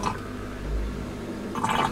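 Dirty wash water drains out of a portable washing machine with soft gurgles and splashy drips, quiet and low, rising into a brief burst of sloshing at the end.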